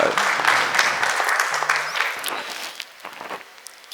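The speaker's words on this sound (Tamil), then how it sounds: "ஒரு நல்ல கைத்தட்டு கொடுக்கலாமே." An audience at a weekly meeting claps, a moderate burst that gradually thins out over a few seconds into scattered claps.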